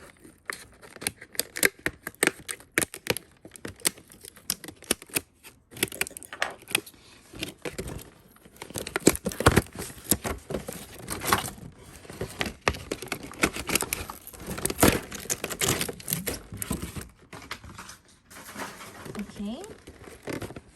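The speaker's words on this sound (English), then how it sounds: "let's cut out this plastic first" Scissors snip and plastic packaging crinkles and rustles near the microphone while a LOL OMG doll box is cut open, with dense, irregular crackling throughout.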